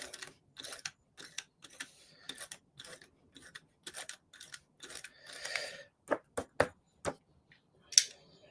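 Scissors cut through paper in a run of short, crisp snips, quiet and close. The snips come in uneven bursts with brief pauses between them.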